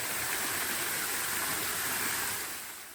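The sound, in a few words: Jogok waterfall at Mungyeong Saejae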